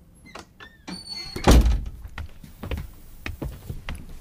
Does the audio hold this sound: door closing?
yes